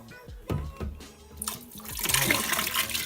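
Rinse water from a Thomas Perfect Air vacuum's water tank is dumped into a toilet, a sustained splashing pour that builds and grows louder toward the end, close by with no talking.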